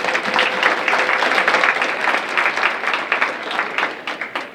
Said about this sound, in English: So we can give Mr. McKnight and the team there a round of applause.